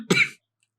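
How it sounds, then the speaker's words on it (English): A single short cough, close and clear, then silence, during a podcast recording. "You don't need to put the coughs in there."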